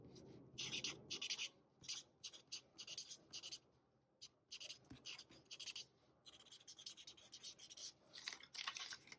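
Two Kokuyo Mark+ highlighters writing together on paper, giving repeated close scratchy rubbing strokes in short bursts with brief pauses, alone without talk.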